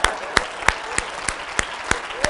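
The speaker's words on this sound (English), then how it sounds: "Give yourselves a round of applause." An audience claps at a motivational talk on attitude versus skills, with single sharp claps arriving in an even, steady rhythm about every third of a second rather than a dense roar.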